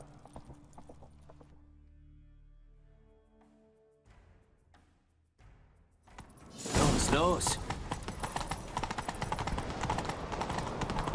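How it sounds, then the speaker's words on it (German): Horse hooves galloping in The Witcher 3 video game, a loud continuous clatter of hoofbeats with jangling tack that starts abruptly about midway and carries on to the end, after quieter game ambience and a short shouted word. "Nimm dir ein Pferd. Wir reiten ihm nach."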